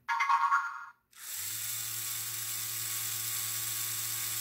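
Two small robot motors run together at 20% speed, setting up a steady, even high-pitched whine that holds for several seconds after a brief opening burst and a short pause.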